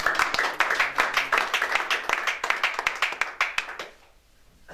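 A church congregation claps in a quick, steady rhythm, loud and close, filling the space before the clapping stops and fades into near silence.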